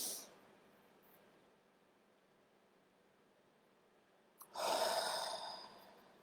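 A deep breath drawn in from the belly is heard as a soft airy rush at the start, then quiet, followed by a fuller, louder breath near the end, close up with no talking.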